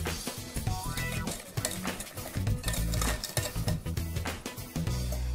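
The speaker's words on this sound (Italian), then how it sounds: "E adesso una bella mescolata con la frusta per amalgamare bene." A whisk beats eggs, sugar and flour in a pot for a Saint Honoré cake's pastry cream, giving a continuous rapid scraping and clinking against the pot, close and even, with no talking.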